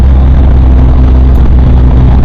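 BMW R 1250 GS motorcycle engine running loud and close, a dense, steady low drone with a constant throaty rumble and no talking over it.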